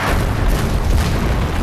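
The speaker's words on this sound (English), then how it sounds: "Random explosions, check." An explosion in the video game SpyHunter: Nowhere to Run, a loud, dense, sustained boom filling the whole moment with no talk over it.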